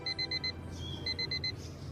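An alarm clock rings in two bursts of rapid, evenly spaced electronic beeps with a short pause between them, moderately loud over a low background hum.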